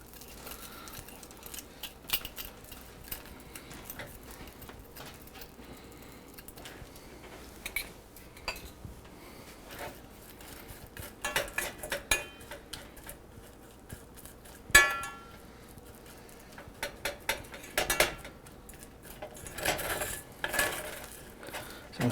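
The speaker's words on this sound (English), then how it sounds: "Stir to occasionally get the sugar melting evenly" A spoon and whisk scrape and clink against a pan while sugar melts, producing sparse, irregular metallic taps and scrapes at moderate volume over a quiet background, with no talking.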